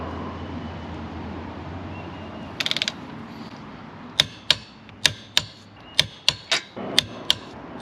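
A wrench tightens the bolts on a beadlock wheel in a star pattern, with a short burst of ratchet clicks and then a series of about a dozen sharp metallic clicks in an irregular rhythm, close and alone.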